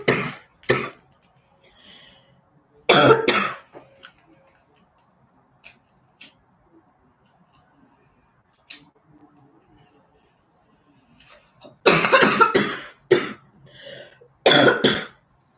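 A person coughing hard after smoking weed, in several harsh bursts separated by quiet stretches with faint ticking and throat sounds, close and loud.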